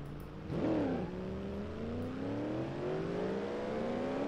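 Race cars lapping Indianapolis Motor Speedway in BeamNG.drive, a steady engine drone that swells as a car passes close and then keeps rising in pitch as the cars accelerate, with no talk.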